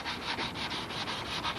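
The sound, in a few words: sanding wood of a model airplane fuselage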